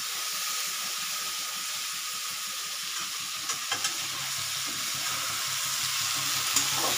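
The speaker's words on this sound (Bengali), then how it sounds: "আস্তে আস্তে একটু নেড়ে দিচ্ছি" Lote (Bombay duck) fish curry sizzles steadily in a pan over a gas flame while being stirred slowly, with a few soft scraping knocks partway through under the constant frying hiss.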